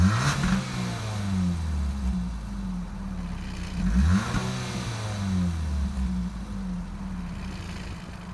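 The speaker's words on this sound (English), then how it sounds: "So yeah, I'll show you guys the exhaust." Stock exhaust on a 2017 Ford Escape being revved, with two rising and falling engine blips about four seconds apart over a steady idle, heard close and alone.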